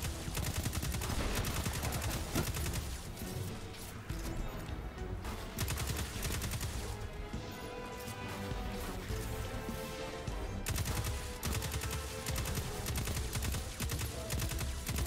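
Heavy-recoil gunfire in the video game Destiny 2, dense rapid bursts of shots fired in long runs with brief gaps, loud and close with game effects behind.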